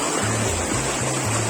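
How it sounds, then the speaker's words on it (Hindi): Rushing water from a waterfall and river stream in Pahalgam, a loud, steady roar of flowing water with a faint low hum pulsing underneath. "कैसा आनंद ले रहे हैं झरने का, ये नदी का।"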